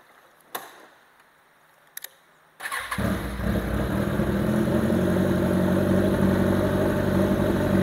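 A Kawasaki Z1000 motorcycle sits quiet with a couple of faint clicks, then its engine fires up abruptly and settles into a loud, steady, rumbling idle close by.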